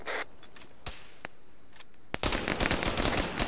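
Gunfire in the video game Arma 3: a few scattered sharp single shots, then a dense burst of rapid automatic fire over the last second, moderately loud with no talking.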